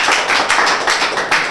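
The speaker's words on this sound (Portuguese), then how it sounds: "Aplausos." Crowd applause at a Portuguese-language rap battle between rounds, a dense burst of many hands clapping with a few louder claps standing out, steady and fairly loud, with no voices.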